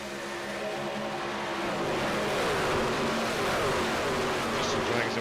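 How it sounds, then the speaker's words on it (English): Race truck engines roar steadily at Michigan International Speedway during a superspeedway event, a loud, continuous droning whine that builds slightly as the trucks circle the oval. "Some of the sounds of the engines here for a moment as we go around."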